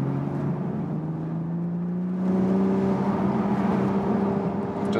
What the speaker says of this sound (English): Blopping from the exhaust valve.